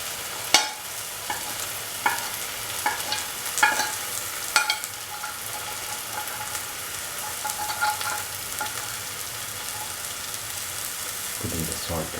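Onions with green chili, red chili, garam masala and turmeric powder fry in a pan, a close steady sizzle broken by scraping and clinking stirs of a spoon.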